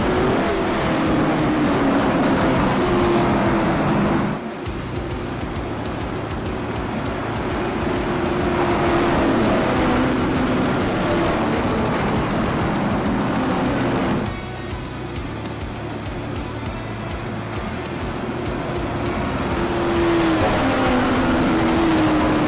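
Late model race cars circle Hickory Motor Speedway behind a pace truck under caution, engines droning and rising as a pack sweeps past, then fading and returning in repeated waves.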